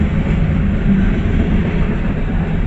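A CSX freight train rolls past close by on the Berkshire Subdivision between Chatham, New York and East Brookfield, Massachusetts, giving a steady, loud, heavy low rumble that holds throughout with no voices.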